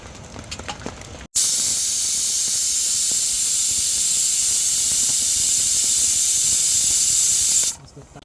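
A pressure cooker cooking rice at a rainy campsite lets out a loud, continuous steam hiss. It starts abruptly, holds steady for about six seconds, then cuts off, with faint background sounds before and after.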